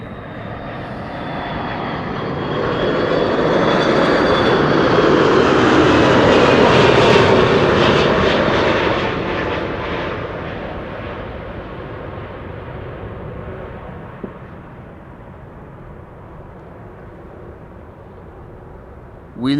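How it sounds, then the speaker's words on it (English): A Delta Airlines Airbus A330-300 arriving at Amsterdam Schiphol, a loud jet roar swelling as it passes close overhead, then fading to a lower rumble after touchdown, with a brief noise at the very end. "This is Delta Airlines flight 56, arriving from Salt Lake City, A330-300."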